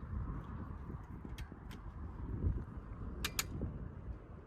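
Rotary clothes dryer being opened out in a garden, giving a couple of brief creaks and squeaks over low rustling and background noise, fairly close.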